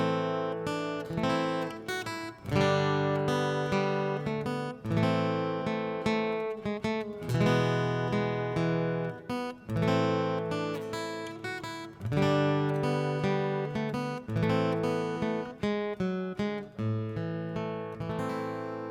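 Guitar chords of What Child Is This (Greensleeves) strummed with a pick in a steady rhythm, full and bright, with brief pauses on melody notes; close and unaccompanied.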